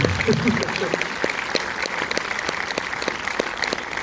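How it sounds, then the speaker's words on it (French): A cinema audience at a film premiere claps for the theatre operators, steady crowded applause with some distinct individual claps standing out close by, voices murmuring faintly underneath. "vous pouvez applaudir les exploitants de cinéma"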